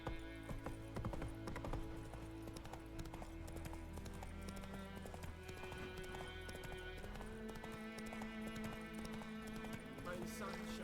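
Roach, the horse in the video game Witcher 3, gallops with fast, steady hoof clip-clops that keep up an even rhythm throughout, layered over a continuous background of in-game sound and music.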